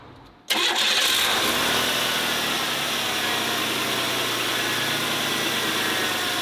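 A 1991 Oldsmobile Ninety-Eight Touring Sedan with the 3.8-litre V6, fresh from a minor tune-up, cranks briefly and catches with a sudden burst, then settles into a smooth, even idle close by.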